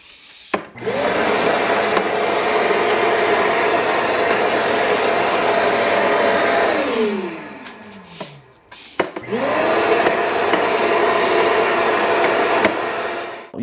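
Airthereal automatic dustpan vacuum running with a steady loud whirring suction hum, spinning down and cutting off, then starting up again shortly after.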